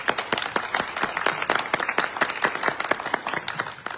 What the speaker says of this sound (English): Will you please give all these candidates a round of applause?